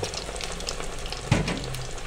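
Chicken fries in hot oil on full flame with a close, steady sizzling hiss, and a brief clunk about halfway through.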